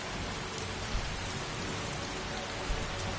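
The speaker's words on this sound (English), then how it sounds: "My God, they certainly like to have the rain now, don't they?" Steady rain pours in Skyrim Anniversary Edition on PS5, a dense even hiss across the whole stretch with a couple of faint low thumps and no voices.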